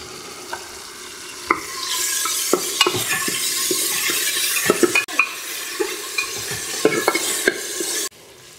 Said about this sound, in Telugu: గ్రీన్ చిల్లీ ఫ్రై అయిన తర్వాత నెక్స్ట్ మనం ఒక table spoon garlic ginger paste చేసుకోవాల